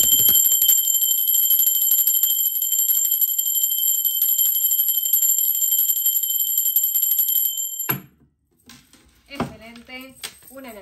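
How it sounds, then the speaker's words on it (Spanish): A bell rung to clear energy, a bright sustained metallic ring that carries steadily for about eight seconds before cutting off, after which someone speaks. "va campana"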